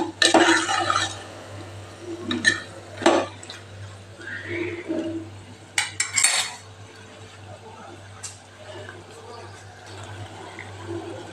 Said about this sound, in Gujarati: એને પણ સરસ મિક્સ કરીને સાતળી લેશું શાકને